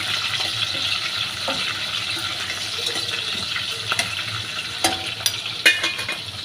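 Green chillies fry in a pan with a steady close sizzle, broken by a few sharp scraping knocks toward the end as they are stirred; no voices.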